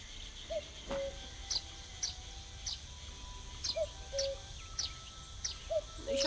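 Woodpecker and other bird calls in the Night of the Rabbit game: short repeated chirps and sharp taps recur every half second or so, fairly faint over a soft ambient forest bed, with no voices.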